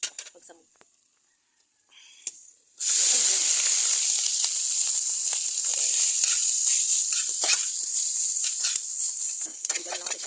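Dried fish (tuyo) fries in hot oil at home; after a quiet start with a few faint knocks, a loud, steady sizzling hiss suddenly erupts and continues close by.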